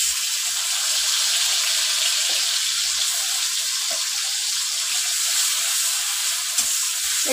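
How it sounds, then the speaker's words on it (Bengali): Chopped tomato fries in a hot pan, making a steady, bright, hissing sizzle that holds evenly throughout with only faint stirring knocks underneath. "একটু এটাকে ভালো করে ভাজতে হবে"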